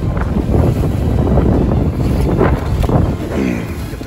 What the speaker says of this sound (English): I guess it's the ferry boat really came through to throw some action at us